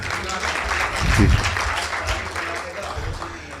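An audience applauds at a Hindi patriotic poetry recital, a steady wash of clapping that swells slightly in the middle and then tapers, heard close and on its own.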